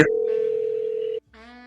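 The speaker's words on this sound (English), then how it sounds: "I'm calling my state security advisor." A phone call rings out on the line: a single steady ringback tone holds for about a second, cuts off, then a second tone begins, clear and alone with no voices.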